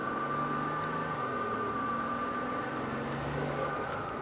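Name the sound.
twin-turbo V12 Mercedes intake air rushing, aftermarket blow-off valves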